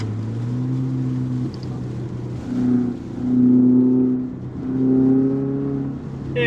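A 2024 Subaru Impreza RS engine drops through downshifts while driving in a blizzard, its steady low drone rising into three swelling rev blips before settling, heard fairly close and alone.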